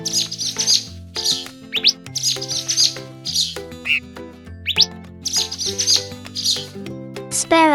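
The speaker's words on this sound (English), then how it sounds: "Sparrow." A sparrow chirps in short, bright repeated calls over a loud, busy children's musical backing, with quacking-like notes mixed in; the bird sounds come in several bursts across the clip.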